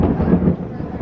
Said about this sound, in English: it just thundered